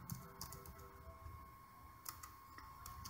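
A command is typed on a computer keyboard while unlocking a Nexus 4 bootloader, a quiet run of irregular key clicks over a faint steady electronic hum.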